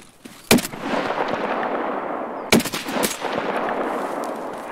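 Two loud, sharp .338 Lapua sniper rifle shots in Escape From Tarkov, about two seconds apart, each followed by a long rumbling echo and reverberant gunfire tail, with no talking.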